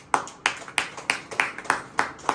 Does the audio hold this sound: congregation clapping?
yes